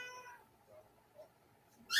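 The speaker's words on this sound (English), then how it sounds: "There's a cat in here." An indoor cat gives a soft, faint meow near the start, then near-silence broken by a couple of small sounds and a louder burst at the end.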